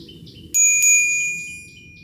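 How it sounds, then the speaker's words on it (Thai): Bell on a Fnhon Gust 20-inch folding bike struck twice in quick succession: two bright, close metallic dings that ring on and fade over a quiet background. "กระดิ่งนะครับ"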